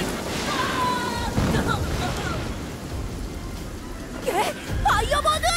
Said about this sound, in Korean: 몰아치는 비바람